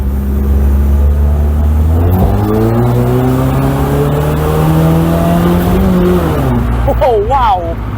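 A 1996 Mercedes-Benz SLK 230 Kompressor with its 190-horsepower supercharged engine, roof down, drones loudly from the cabin as it accelerates through a couple of gear changes, the engine note climbing steadily then dropping near the end.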